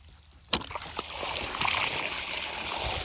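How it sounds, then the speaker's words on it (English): Farm effluent water pours and splashes from the outlet pipe of a travelling irrigator, a steady gushing stream that swells after a sharp knock, fairly faint and close. "So that's the effluent water coming out right there."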